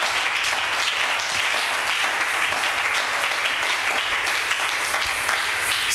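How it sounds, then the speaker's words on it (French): Sustained applause and cheering from a church congregation praising the Lord, a dense, steady roar of clapping hands and voices that carries on without a break throughout. "Est-ce qu'on peut acclamer très fort le Seigneur?"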